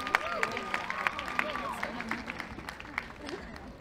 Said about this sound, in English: give a round of applause for Kesher and the entire team that put this all together